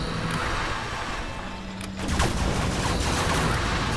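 Gatling cannon fire in the strategy game Command & Conquer Generals Zero Hour, heard as a dense, rumbling battle barrage that grows louder partway through and carries on steadily to the end.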